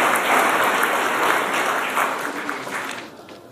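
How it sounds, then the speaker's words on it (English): Warm round of applause from guests at an evening reception for a Taiwanese delegation visiting Atlanta, a dense burst of clapping that slowly fades over a few seconds. "Please let's give them all a warm round of applause."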